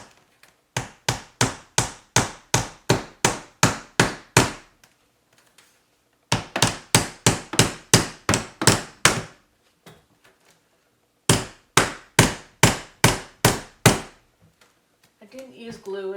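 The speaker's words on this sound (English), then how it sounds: "So I'll just nail this in at the top." Nails being hammered into wooden trim, sharp close blows landing in three quick rhythmic bursts of about ten strikes each, separated by short pauses.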